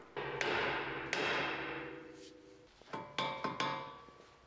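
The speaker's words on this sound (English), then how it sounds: "Hit the knuckle side with a hammer until the ball joint breaks loose." Sharp metallic hammer strikes on a car steering knuckle, loosening a ball joint on a 1996-2001 Honda CR-V, ring out, two widely spaced blows followed by three quicker ones, each leaving a brief ringing tail.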